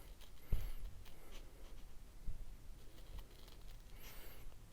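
Scissors, Fiskars by make, snip through black twill embroidered patch fabric just outside white satin stitching, giving a few soft, close crunching cuts spaced out over quiet room noise.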